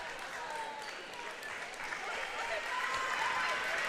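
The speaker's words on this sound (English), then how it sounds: "gets a nice round of applause from the home fans here as she exits on senior night" Home fans applaud a departing senior player at a girls' high school basketball game, a steady, fairly faint wash of clapping that swells slightly as it continues.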